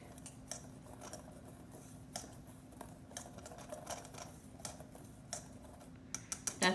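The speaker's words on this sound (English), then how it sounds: "I'm going to give this a quick whisk" Dry flour, baking soda and salt whisked in a bowl for banana bread, a quick run of soft, fast ticking taps against the bowl, faint and close, with no talking.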